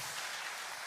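A church congregation applauding in thanks for the pastor, a dense steady wash of clapping throughout, fairly faint and with no voices over it.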